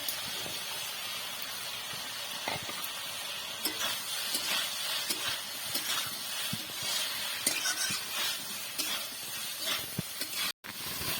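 Prawns sizzle in a pan with Malabar spinach, a constant close hiss broken by scraping stirs and light clinks of the pan, with no talking.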